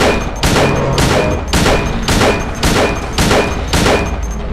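Gunshots in Silent Hill 2 fire in a steady rhythm of about eight loud, booming shots a little over half a second apart, close and heavy, with no talking.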